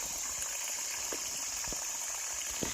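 A natural stream of water flowing through the woods makes a steady, quiet hiss with faint scattered splashes.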